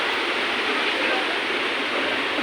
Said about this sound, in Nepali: खोला बगिरहेछ माई खोलाको